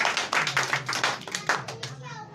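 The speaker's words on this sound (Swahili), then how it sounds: "Tupigie Mwenyezi Mungu makofi mazuri" A church congregation at a prayer and fasting service breaks into brisk applause, a dense run of hand claps that fades toward the end, with faint voices mixed in.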